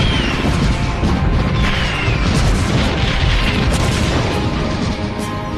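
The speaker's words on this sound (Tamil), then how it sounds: "இதுதான் கடைசி வெடி." A cartoon firework blast, a dense, loud rumbling boom with crackling that fills the scene steadily with no talking.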